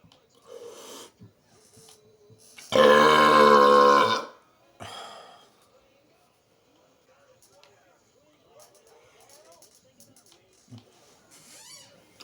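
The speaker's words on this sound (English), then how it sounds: "let's start burping while playing Grand Theft Auto 4" A single long, loud, croaking burp is heard close up, with someone speaking quietly before and after it during a Grand Theft Auto 4 session.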